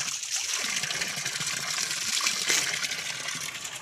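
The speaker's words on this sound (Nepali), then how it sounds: "अब मूलको पानी, हामी चाहिँ मूलको पानीमा जाँदैछौँ." Spring water flowing at a village farmhouse in Palpa, a steady close rush and trickle of running water with no pauses and no voices.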